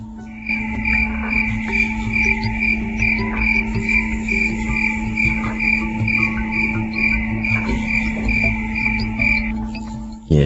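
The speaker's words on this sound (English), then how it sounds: "there's the crickets again" Crickets chirp loudly and close, a dense pulsing trill running steadily without pause, with a faint insect or frog drone beneath and no voices.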